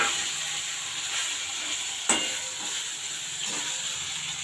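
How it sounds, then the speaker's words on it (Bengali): Pieces of rui fish frying in hot oil give a steady, close sizzling hiss throughout, with a brief sharper crackle partway through and no one talking. "এগুলো আমি পরপর ভেজে নেব।"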